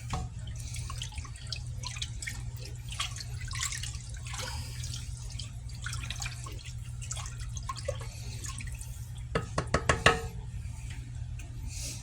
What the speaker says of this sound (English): now that we've gotten our beef broth in with our cooked down onions and garlic